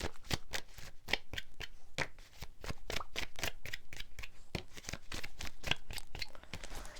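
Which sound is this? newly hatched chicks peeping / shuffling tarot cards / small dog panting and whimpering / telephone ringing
shuffling tarot cards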